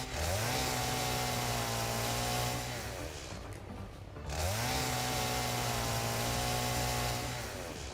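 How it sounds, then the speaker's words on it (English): Chainsaw in the video game Satisfactory, a loud, steady engine drone with a rising rev at the start, a brief dip in the middle, then another rev-up into a sustained buzzing roar. "Let us know if the chainsaw noise is too loud as well."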